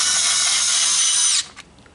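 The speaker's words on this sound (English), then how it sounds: "I'm going to go ahead and put the screws back in to hold that board back down" A power drill drives screws back into the board of an adapted polar bear toy, a fast high whirring burst lasting over a second and then stopping, followed by a couple of faint clicks.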